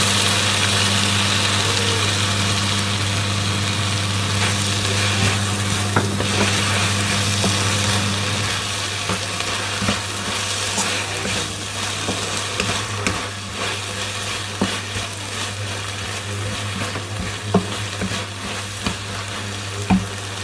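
Eggplant and potatoes fry in a pan with chili sauce, a steady close sizzle over a low hum, with stirring scrapes and clinks growing busier partway through and no voices.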